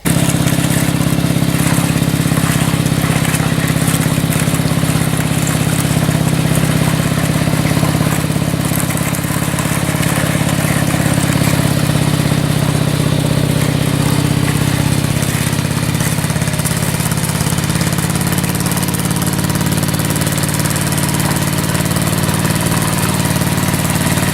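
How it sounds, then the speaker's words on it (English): A riding mower's engine, towing a cultivator on a chain, drones loud and steady at close range, a continuous low rumble with no breaks. "today we're going to try hooking it back up to the lawnmower with a chunk of chain this time"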